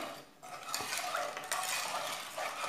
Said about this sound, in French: je vais prendre juste la cuillère et je mélange